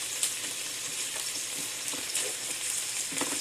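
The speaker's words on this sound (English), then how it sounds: "My burgers are frying away right here, spitting all kinds of grease up at me." Burgers fry in a pan, a steady close sizzle with frequent sharp pops and spits of grease, with no one speaking.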